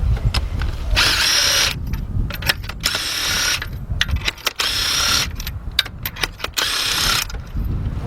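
A power driver works a bolt loose on a Volkswagen engine during a rear timing chain job, firing in several short loud bursts separated by quieter handling clatter, close by.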